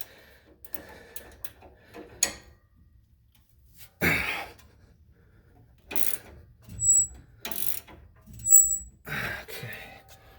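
A ratchet clicks in short, uneven bursts while a truck's suspension is tightened on an F-150, with quiet gaps between cranks and a few sharp metallic clacks nearby.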